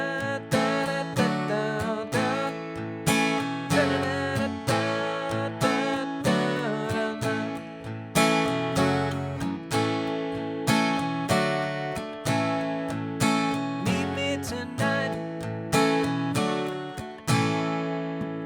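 Guitar strumming the chorus chord progression of a song in a steady, rhythmic pattern of bright, full chords, played up close and continuously without any talking.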